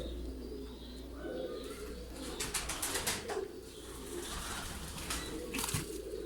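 Soft, low pigeon cooing repeats against a steady background hum, with a few brief flutters and chirps mixed in.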